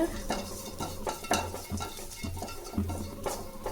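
Garlic and spices dry-roasting for idli podi in a pan, rattling and scraping in a steady run of close, light clatters and knocks with no talk.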